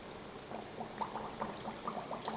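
Beavertail dough fries in hot oil, giving a soft, steady bubbling and sizzling with many small pops, heard close and fairly quiet with no voices.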